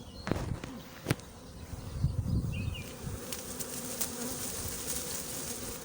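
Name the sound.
honey bee swarm buzzing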